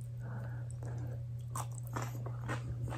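A few crisp bites and crunches into fresh cucumber during a mukbang meal of ramen and dumplings, close to the mic over a steady low hum, with no talking.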